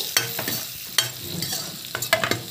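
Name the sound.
stirring and frying in a pan for coriander paratha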